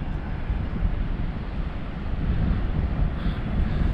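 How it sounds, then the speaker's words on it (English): Steady wind gusting across a South Carolina barrier island beach, blowing sand past, with a dense, continuous low rumble of wind on the microphone and faint surf beneath. "We're getting wind blown by some sand coming in right here."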